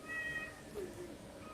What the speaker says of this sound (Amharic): ትፈረታለች እንዴ ድመቷን?